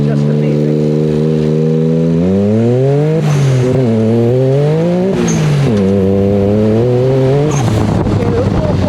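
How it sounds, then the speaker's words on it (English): A car with a newly fitted transmission and rear end revs loudly on a run, its engine note climbing and then breaking sharply at three flat-foot gear shifts before pulling up again. "those little flat shifts, not executed well, but they were flat shifts"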